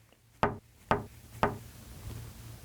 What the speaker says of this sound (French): Arrivé devant la maison de bois, le loup frappa à la porte.